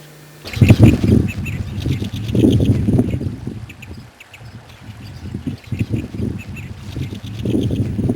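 Summer birds flock over flooded rice paddies on the reclaimed land by Cheonsu Bay in Seosan, their calls close and busy in overlapping bursts over a constant background murmur.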